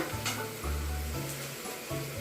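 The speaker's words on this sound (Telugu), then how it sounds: "ఇవి వేగుతున్నాయి కదా, ఇవి వేగుతున్నప్పుడు పల్లీలు కూడా వేసుకోవాలి" Spices and peanuts temper in hot oil for pulihora, giving a steady, close sizzle and crackle with a low droning undertone throughout.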